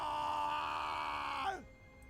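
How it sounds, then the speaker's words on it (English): A long, sustained character scream from the Elder Scrolls Online voice selection, a strained groaning cry held steadily before dropping off abruptly into near silence. "That was a long scream."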